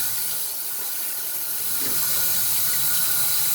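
Hot water runs in a steady, loud hissing stream, splashing continuously into a cast iron pan with no voices.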